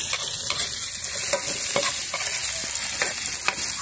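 White onion and spices sautéed over a charcoal fire give a steady close sizzle, with scattered scrapes and stirring strokes through the whole stretch.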